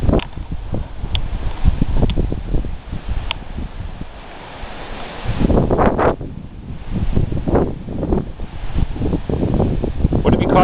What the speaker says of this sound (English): I said it's too windy.